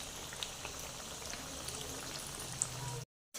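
Leftover-roti kababs frying in oil, a faint, even bubbling sizzle with tiny pops that cuts off abruptly near the end.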